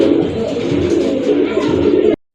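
A breeding pair of pigeons offered for sale gives a steady, continuous low cooing drone close by, then it cuts off abruptly.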